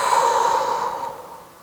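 One long, audible exhale through the mouth during the yoga cat-cow movement, breathy and close, fading out gradually over under two seconds.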